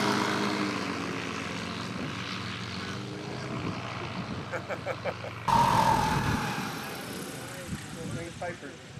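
A 1946 Aeronca Chief light airplane's engine and propeller drone steadily at a fly-in, with a louder, nearer surge partway through and speech over the top.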